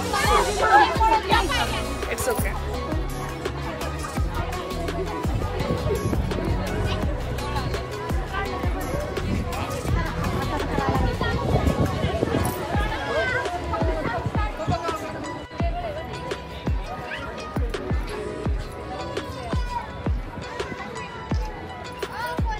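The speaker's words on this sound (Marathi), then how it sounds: "एवढी गर्दी आहे, भयानक गर्दी संडे असल्यामुळे." A large Sunday crowd at the Swaminarayan temple in Pune makes a steady murmur of many voices, with children's chatter and footsteps. A close voice speaks briefly over the hubbub.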